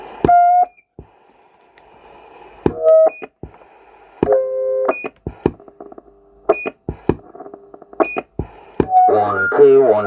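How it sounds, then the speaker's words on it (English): A Cobra 148 GTL DX Mark 1 CB radio sends repeated short two-tone roger beeps at the end of each transmission, sharp electronic bleeps separated by gaps and brief bursts of radio hiss, with a voice heard near the end. "Got the distinctive beep that the Mark 1s have."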